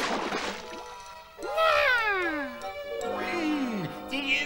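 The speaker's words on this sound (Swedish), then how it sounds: "en svart katt!" A cartoon black cat meows twice in a row, with bright rising-then-falling cries, and a light tinkling jingle sits in the background of the animated scene.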